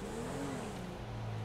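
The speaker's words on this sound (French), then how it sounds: "Ah, j'entends des voitures." Faint, distant engine noise of cars driving past, a steady low hum with a gentle rise and fall in pitch.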